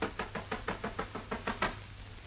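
About nine quick, evenly spaced knocks rap on a door, moderately loud and close, then stop.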